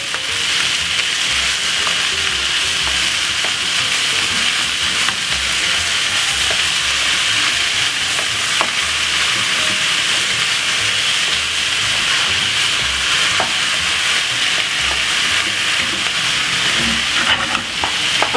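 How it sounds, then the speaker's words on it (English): Pepper and salt seasoned food sizzles steadily in a pan while it is stirred, a continuous close frying hiss with soft scraping throughout, no talk. "Give it a quick stir."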